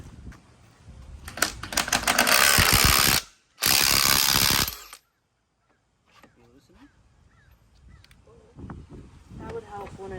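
Ratchet working bolts loose on a trailer during a lights refresh: two long bursts of fast, loud clicking close by, then quieter handling noises while people talk.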